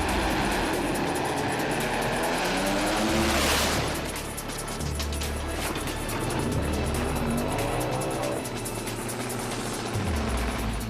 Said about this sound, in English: Monstrous crash.